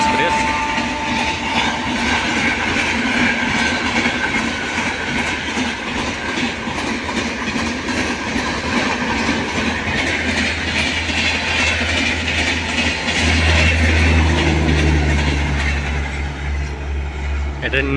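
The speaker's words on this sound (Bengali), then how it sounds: "এটি হচ্ছে দিল্লি হাওড়া পূর্বা এক্সপ্রেস।" The New Delhi to Howrah Poorva Express rolls past with a loud, steady rumble and rhythmic clickety-clack of wheels, close and continuous, with a low horn-like tone near the end and a voice talking over it.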